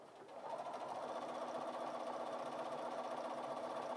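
A Bernina 550 sewing machine stitches a pattern in one continuous, even mechanical hum with a rapid rhythmic needle patter, close and steady, no talking.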